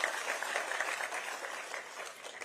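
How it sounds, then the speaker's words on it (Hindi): An audience at a formal school partnership event applauds steadily, a dense wash of many hands clapping at even loudness throughout, with no voices over it. "जोरदार तालियां प्लीज।"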